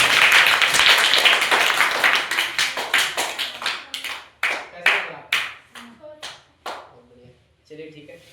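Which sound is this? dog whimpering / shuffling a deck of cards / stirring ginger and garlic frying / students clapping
students clapping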